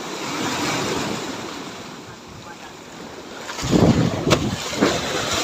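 Strong ocean waves rush onto a beach, a broad, loud wash mixed with wind buffeting the microphone, swelling into heavier crashing surges toward the end.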